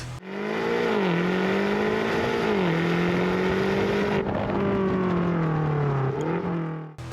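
A loud 2023 BMW XM engine revving and accelerating hard, the pitch climbing and shifting through gears, close and sustained.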